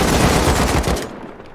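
AK rifle gunfire in the survival game Rust: a dense, loud burst of rapid automatic shots for about a second, then a fading tail.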